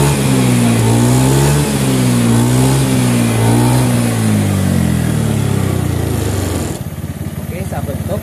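A Honda Beat FI scooter engine, low on oil, revving roughly with a smoking exhaust: a loud, close, droning mechanical whine rising and falling, then dropping to a rattling idle near the end.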